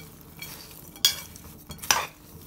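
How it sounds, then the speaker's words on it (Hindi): Dry fruit panjiri with gond and makhana gets stirred with brown sugar in a pan, giving a few short, faint scraping and rustling strokes, two sharper scrapes standing out. "इसमें हम डालेंगे भूरा डाल के हम इसको अच्छे से मिक्स कर लेते हैं"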